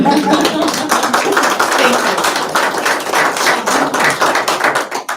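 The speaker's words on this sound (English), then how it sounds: "we should clap for her" People at a school district board meeting clap for an absent colleague, a close, loud burst of dense applause that thins into scattered claps near the end, with some talk mixed in.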